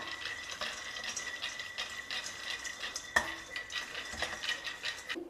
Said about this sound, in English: 1/4 cup of peanuts or groundnuts and dry roast this also.